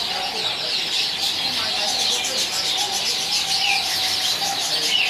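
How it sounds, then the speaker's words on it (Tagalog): Small birds chirp near an office in Singapore, a busy stream of high, rapid tweets and calls repeating throughout, fairly close and loud over a low urban background. "I have a lot of beautiful birds here."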